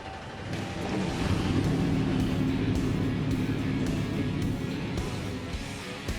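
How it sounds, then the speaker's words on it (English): NASCAR stock car engines start up at Daytona before the Can-Am Duel race, merging into a loud, steady, broadband roar that holds for several seconds. "Drivers, start your engine."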